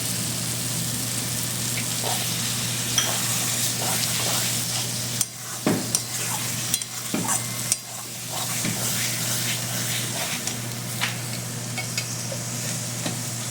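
Loud steady sizzle of spice masala frying for mutton curry as tomato is added, with stirring scrapes and clatters of a spatula against the pan in the middle part, close and continuous.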